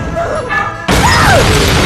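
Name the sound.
explosion in a burning kitchen, Final Destination movie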